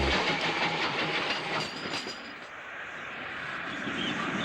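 Ex-Caledonian Railway steam locomotive 54465, a Caley Bogie on a 1962 Easter rail tour in Scotland, rumbles past loudly with a broad roar and faint rhythmic clatter that eases slightly midway before swelling again.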